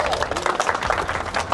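Dense, steady applause from an audience at an outdoor street lifting competition's prize ceremony, many hands clapping at once close by for a short burst, with faint voices mixed underneath.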